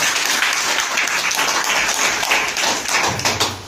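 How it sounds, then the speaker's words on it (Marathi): Loud, close applause fills a senior citizens' hall during a legal awareness camp, many hands clapping in a dense continuous burst that tapers slightly at the end. "टाळ्यांचा गजर करूया"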